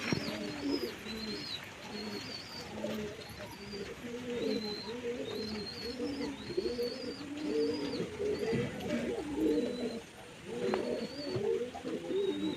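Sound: pigeon held in hand, cooing

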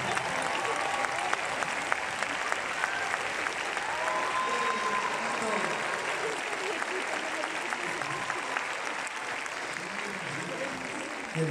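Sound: audience applause at a concert

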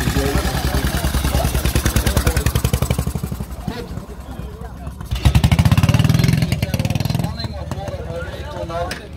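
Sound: 1915 belt-driven side-valve motorcycle engine running

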